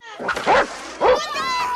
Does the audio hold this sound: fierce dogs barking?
yes